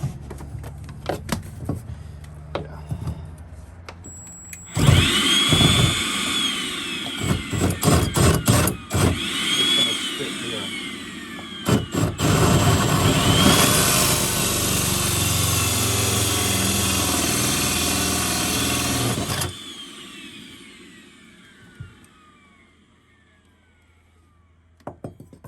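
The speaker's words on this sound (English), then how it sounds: "I'm going to ream this side out." A power tool reams out a hole in a boat for a Yeti-sized cup holder, loud steady grinding running about fifteen seconds with stop-start bursts, quiet handling clicks before and after.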